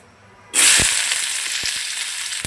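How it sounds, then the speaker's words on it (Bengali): Chopped onion hits hot oil in a wok with a sudden loud hiss about halfway in. A strong, continuous sizzle follows, with a few sharp spatters on top. "কড়াইতে দিয়ে দিচ্ছি পরিমাণ মতো তেল এখন দিয়ে দেব আমি পেঁয়াজ কুচি"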